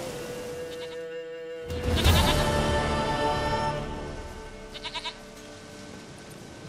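A goat bleats several times in The Witcher 3, with short quavering cries standing out over the steady game ambience and music, the loudest burst coming early and a few fainter bleats following later.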